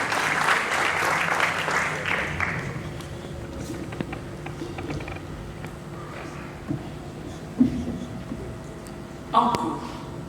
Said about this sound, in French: On l'applaudit pendant qu'il avance, s'il vous plaît. On applaudit très fort, mesdames et messieurs.